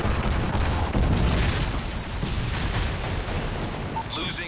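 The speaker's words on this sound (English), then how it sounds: "Friendly Predator missile inbound." A Predator missile explosion in Call of Duty: Modern Warfare 3 multiplayer, a loud, heavy boom followed by sustained rumbling blast noise that stays dense throughout.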